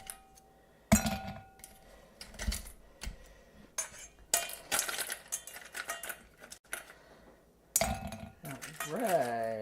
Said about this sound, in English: we're going to put some ice in our glass